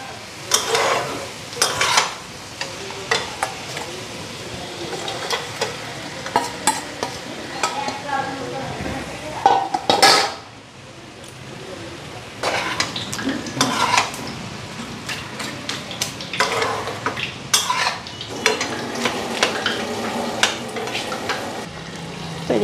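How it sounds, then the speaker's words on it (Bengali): An egg sizzles in a little oil in a pan while a utensil stirs and scrapes it in repeated bursts, with brief clinks of metal against the pan over a steady frying hiss; no one speaks. "এদিকে ডিমটা মোটমাট ভাজা হয়ে গেছে"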